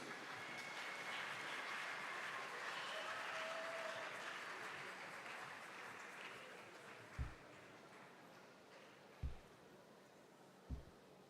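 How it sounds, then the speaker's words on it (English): An audience at a choral competition in Asaba, Nigeria, applauds a choir with a broad, sustained wash of clapping that slowly fades away, followed by a few isolated low thumps. "if you want to clap for them, I appreciate them"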